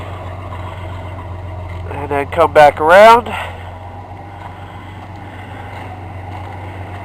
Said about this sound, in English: point it at the exhaust, take a glorious side shot of my beautiful truck